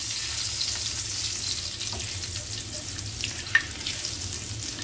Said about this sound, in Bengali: কালো জিরে ফোড়ন দিয়ে দিলাম। দিয়ে দিলাম একটা রসুন থেতো করে।